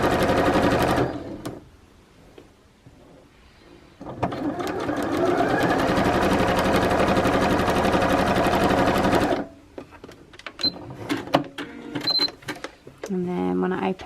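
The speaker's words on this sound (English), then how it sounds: "And I'm just going to stitch all the way down" A sewing machine stitches a seam joining fabric scraps. Two bursts of rapid mechanical chatter, one short and one longer and sustained, are separated and followed by quiet gaps with clicks and handling noises.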